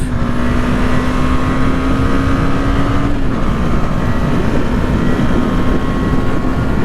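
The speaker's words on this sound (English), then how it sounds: "the engine is very refined, guys. This is a BS6 engine. It is so smooth. You won't feel like it's a single cylinder 250cc." A Husqvarna Svartpilen 250 with a smooth single-cylinder 250cc BS6 engine runs steadily, giving a continuous, even drone that holds close and loud throughout with no voices over it.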